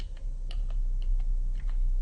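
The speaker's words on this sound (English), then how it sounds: "holding down the control key and tapping plus or minus on my keyboard" Keys on a computer keyboard are tapped in a quick, irregular series of close, crisp clicks over a low steady hum, with no talking.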